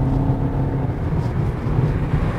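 A 2019 BMW X2 xDrive20d with a 190-horsepower 2-litre diesel engine drives on the road, giving a steady, loud low engine drone with road rumble and a slight rising whir from the cabin.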